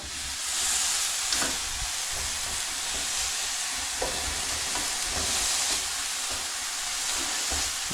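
Beef seasoned with steak seasoning, pepper, garlic and salt browns in a pan, a steady loud sizzle running throughout with occasional soft scrapes of stirring.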